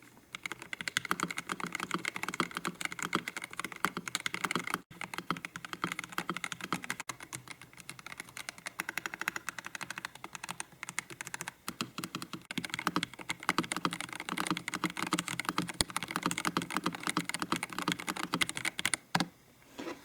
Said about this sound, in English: Now for a test of what it sounds like when you are typing along.